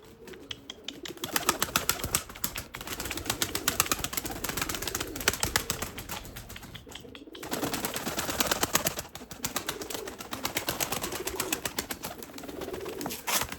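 Erzurum white breeding pigeons coo in repeated low throaty calls, close and steady, with bursts of flapping wings and a faint high whine running underneath.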